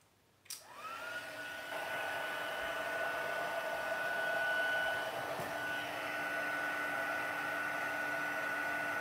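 A heat tool switches on with a click and blows a steady whooshing hum while embossing a stamped card, close and continuous, with no talking.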